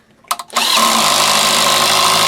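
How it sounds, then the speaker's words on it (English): Corded power drill on a kitchen remodel job, a couple of short clicks and bursts before the motor spins up into a loud, steady whine that runs on unbroken. "Drill!"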